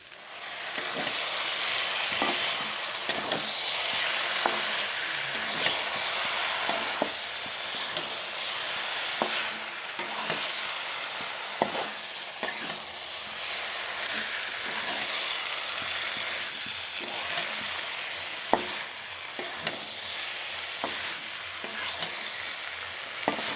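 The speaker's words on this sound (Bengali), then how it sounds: "কপিগুলোর সাথে মিশিয়ে নেব এখন মশলা দিয়ে" Cauliflower and potato frying with spices in a pan, a continuous hissing sizzle broken by repeated clinks and scrapes of a spoon stirring, no talk.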